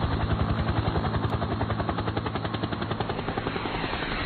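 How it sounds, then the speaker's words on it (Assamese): A cartoon helicopter flies, its rotor producing a loud, rapid rhythmic chopping pulse that holds steady and fades slightly toward the end, heard alone without speech. "দেখোন ডিমৰ হেলিকপ্টাৰখন আকৌ ওলাইছেহি"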